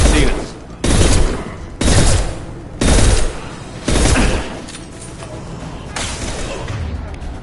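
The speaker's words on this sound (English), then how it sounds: "The Blue Suns and Vorcha shooting anything that moves." Blue Suns and Vorcha mercenaries fire weapons in Mass Effect 2, loud separate bursts of gunfire coming roughly once a second, followed by a lower lingering rumble of battle.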